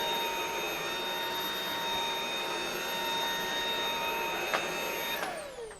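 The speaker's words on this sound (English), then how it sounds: "to show them the competition vacuum" A competition vacuum cleaner runs during a demonstration, a loud steady motor whine with a constant high tonal hum that holds for several seconds before tailing off slightly at the end. No one speaks.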